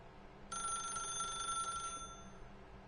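A telephone rings once in The Stanley Parable video game, a bright electronic trill lasting about a second and a half over a low ambient hum, then fading out.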